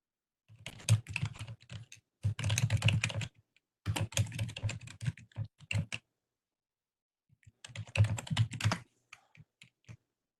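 Rapid typing on a computer keyboard in bursts of clicking keystrokes separated by short pauses, close and clear, at a Linux terminal.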